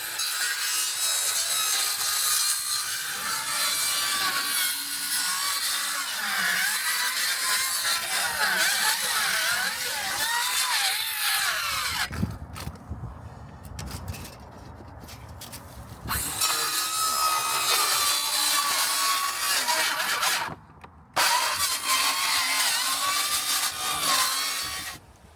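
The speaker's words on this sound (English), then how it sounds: "it was time to cut some of the undulation sheets into 50cm pieces" A power saw cuts corrugated roofing sheets into pieces while a storm-damaged stable roof is replaced, a loud continuous grinding rasp with brief pauses and restarts between cuts.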